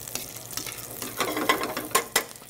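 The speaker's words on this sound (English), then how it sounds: "So you can see here our bacon is almost rendered" Bacon frying and rendering its fat in a pan for pasta carbonara, a close crackling sizzle with scattered sharp pops over a soft background bed, no talk.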